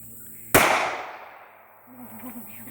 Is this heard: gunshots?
yes